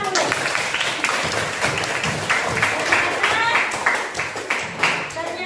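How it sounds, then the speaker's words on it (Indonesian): A classroom of students claps together in a busy, uneven burst, loud and close, with voices mixed into the applause. "Tepuk tangan dulu."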